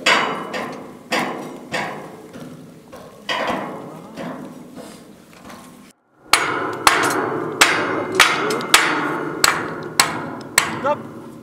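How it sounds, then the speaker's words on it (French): A hammer strikes repeatedly during the final reassembly of a machine before it goes back into service. The blows are loud, close and rhythmic, with a brief pause midway before a quicker run of strikes. "le marteau."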